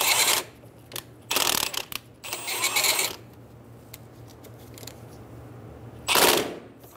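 A wrench snugs down a bolt during a front wheel bearing replacement on a 2000-2007 Ford Focus, with several short, loud bursts of metallic ratcheting and clicking separated by quieter gaps, close to the microphone, with no speech.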